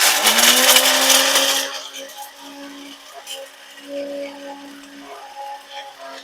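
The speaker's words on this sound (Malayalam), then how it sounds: "ബിരിയാണി മസാല അത് ഞാൻ ഗ്രൈൻഡറിൽ പൊടിച്ചെടുക്കാൻ പോകും" Biryani masala ground in a kitchen grinder, a loud whirring burst lasting under two seconds that cuts off abruptly, leaving a faint hum and quiet tones behind.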